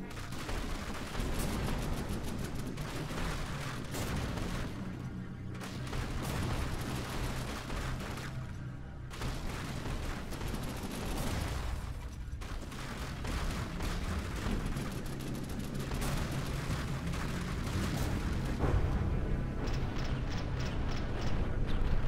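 Guns fire continuously in From the Depths, a dense, loud barrage of rapid shots and heavy thuds that stays steady throughout, with brief gaps and no voices.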